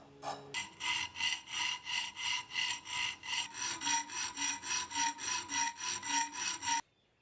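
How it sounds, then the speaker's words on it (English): A metal file cuts a false bevel into the spine tip of a Wharncliffe knife blade, about twenty even, rhythmic rasping strokes, close and clear with no voices. "Here I'm using a file to add a false bevel to the tip of the spine."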